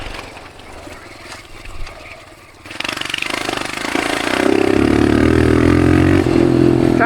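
A dirt bike's engine and exhaust rev loudly in the desert, starting with quieter clatter and then swelling into a sustained, buzzing roar that holds close and strong.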